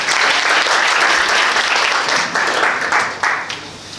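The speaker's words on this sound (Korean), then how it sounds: "큰 박수 부탁드립니다." An audience at a Korean union hearing in a lecture hall bursts into loud, sustained applause, a thick wash of clapping that holds steady before tapering off near the end.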